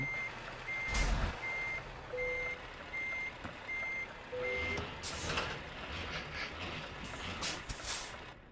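A truck reverses in the Euro Truck Simulator 2 game, giving a regular series of loud electronic beeps at an even pace. An air-brake hiss and engine rumble follow after the beeping stops.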